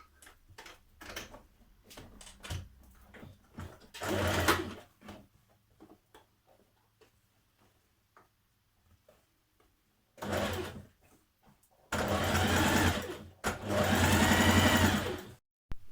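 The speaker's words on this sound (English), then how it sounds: "I'm just doing a small double fold hem on the sleeves and the bottom." A sewing machine stitches a small double fold hem in short bursts: brief whirring runs near the start, then longer loud stretches of rapid stitching near the end, with quiet handling clicks and pauses between.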